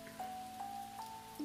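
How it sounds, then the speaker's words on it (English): Rain falls during a night drive in an analog horror piece, a soft steady patter with scattered drops and a faint sustained tone beneath, fairly quiet throughout. "we got a guy driving in the middle of the night, and then it's raining, I think?"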